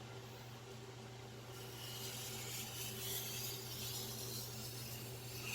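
A Victorinox 8-inch chef knife makes a single pass over a Chosera sharpening stone to remove a burr, a soft steady scraping rasp that is faint and continuous, with no voices.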